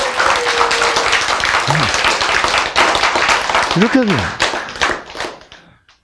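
An audience at a Korean lecture claps in a brief burst that thins out toward the end, with a speaker talking over the applause.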